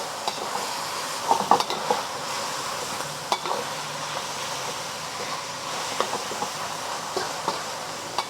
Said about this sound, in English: Give the other side a sear. I'm just gonna start breaking it up and make sure that it cooks all the way through.